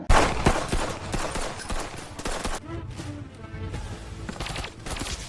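Sniper rifle gunfire in a video game, heard as a dense run of sharp shots and crackling reports over continuous game noise, steady and moderately loud throughout without speech.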